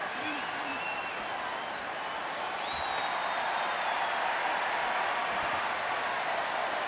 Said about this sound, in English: Crowd enjoying themselves